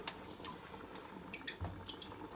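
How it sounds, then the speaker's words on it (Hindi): Water poured into a pot of browned mutton paya, a steady splashing trickle heard close and fairly quiet, with a faint tap-like hiss throughout and no talking. "पानी हम लोग इसके अंदर, ये मैंने 1 लीटर डाल दिया है"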